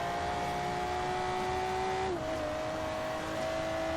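A Volvo S60 drives in Forza Horizon 3, its engine holding a steady, loud tone that drops in pitch partway through as it shifts or eases off, with no voices.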